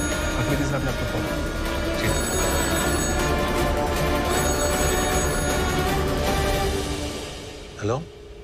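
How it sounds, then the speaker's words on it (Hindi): A telephone rings steadily in an office setting in an action film, a continuous ringing tone held for several seconds before fading out, with a brief voice near the end. "अफरीदी साहब ने आपको फोन।"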